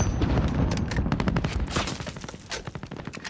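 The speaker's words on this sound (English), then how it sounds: "he's shooting me through the building" Rapid gunfire from a shooter video game, shots coming through a building: a dense, loud burst of overlapping cracks and thuds, then a few sharper separated shots near the end, with no voices.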